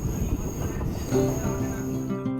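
A train runs on rails on the line from Siliguri toward the Dooars, with a steady low rumble and thin metallic ringing tones. Faint voices sit underneath.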